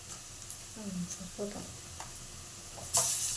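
Chopped onion and ginger-garlic paste frying in a pan for a curry: a soft sizzle with a few spatula scrapes and stirs, ending in a louder burst of hiss.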